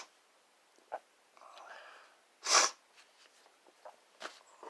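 Snuff being sniffed up the nose: a few soft nasal sniffs, then one sharp, louder snorting inhale near the middle, followed by smaller breathy sniffs, all close and quiet with no speech.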